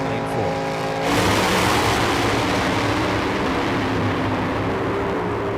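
Top alcohol dragsters launch in a qualifying run at a drag strip. A low idle jumps at about one second into a sustained, roaring engine blast that stays loud and steady, with a commentator talking over it.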